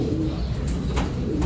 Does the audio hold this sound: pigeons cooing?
yes